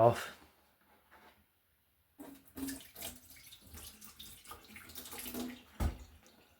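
Water is poured off from a bucket of gold-recovery material, heard as a few short splashes and trickles after a quiet gap, fairly close and soft.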